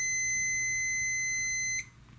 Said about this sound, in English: It's got the meter set to beep.